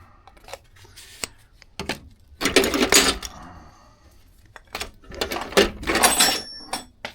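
Loose metal drill bits clatter and rattle in a box in bursts, with sharp clicks between louder jostling shakes, close by.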